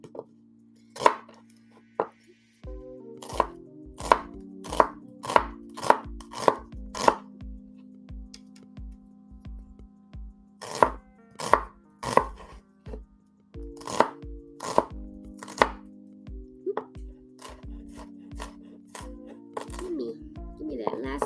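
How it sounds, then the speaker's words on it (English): Knife chopping mushrooms on a cutting board for a stuffing, a steady run of sharp, close chops in quick bursts separated by short pauses, with a low background hum throughout. "why don't I just chop it all the same way?"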